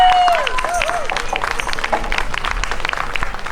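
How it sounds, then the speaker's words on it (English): An audience at an intermediate school spring pops concert gives a studio jazz band of students a dense round of applause, with sharp whistles and cheering mixed into the steady clapping crowd. "can you get a big round of applause for our studio jazz band"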